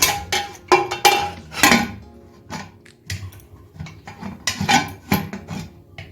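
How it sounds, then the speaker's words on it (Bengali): Metal clanks and scrapes of a pressure cooker lid being fitted and locked shut on a pot of chana dal, a rapid series of loud, close knocks and rattles. "প্রেসার কুকারের মুখটা বন্ধ করে দিচ্ছি"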